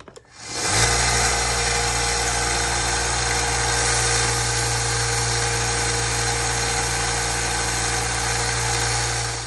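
An angle grinder with a 4.5 inch cutoff wheel spins up and grinds a hardened axe head, a loud steady whine and drone that holds unchanged for several seconds after a quick start, with no talking.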